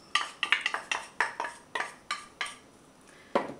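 Spoons and measuring cups clink sharply against a mixing bowl as cornstarch and baking powder go into a cup and a quarter of flour for vegan waffles, a quick run of bright taps followed by a few scattered ones.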